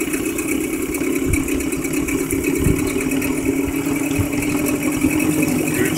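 A 2004 Mercury 8 hp two-stroke outboard runs at a steady idle after a gear-oil change, a close buzzing drone with faint knocks and clicks over it.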